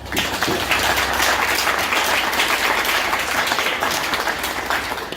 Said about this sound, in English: round of applause for everyone being here today